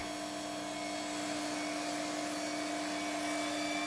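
A Bosch GEX 125-1 AE random orbital sander runs at its lowest speed setting, a steady, fairly quiet motor whine and hum that holds constant throughout.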